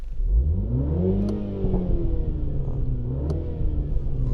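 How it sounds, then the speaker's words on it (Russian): A MINI John Cooper Works engine and exhaust rev in sport mode, a loud, close, rising and falling growl with rumbling undertones and a couple of sharp crackles. "И у нас сейчас выхлоп, да, должен измениться звук."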